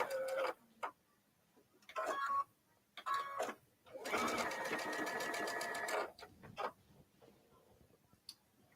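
A sewing machine stitching a quarter-inch seam on a quilted table topper, in short whirring bursts with a longer steady run in the middle, close and clear in a quiet room.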